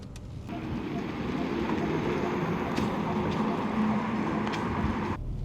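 A BMW i4 eDrive35 electric sedan drives along in Thailand, giving a steady, even road and wind rush from inside the cabin with a few faint clicks, and no one speaks.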